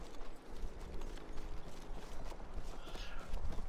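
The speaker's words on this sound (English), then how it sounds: "I hear a horse cab, again." Hooves of a horse-drawn cab clop steadily in Battlefield 1 gameplay, mixed into a dense, rumbling battle soundscape at moderate volume.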